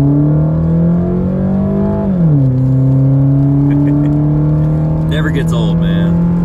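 Honda 420 ATV, recently repaired after a transmission failure, pulling onto a road: a loud, close engine drone that holds steady, drops in pitch as it shifts, then settles, with a voice speaking briefly near the end.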